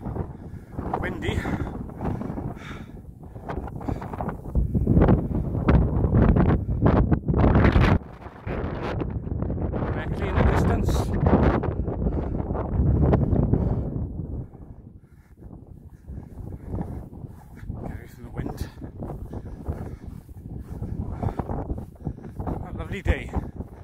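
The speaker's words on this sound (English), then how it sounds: "Windy." Strong gusts buffet the microphone with loud, rough rumbling that rises and falls, while someone speaks intermittently beneath the noise, outdoors on high ground overlooking Penclawdd near Swansea, Wales.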